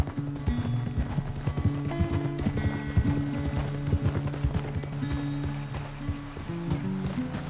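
Horse hooves clip-clop steadily on a hard surface, a brisk repeating rhythm that stays close and clear throughout.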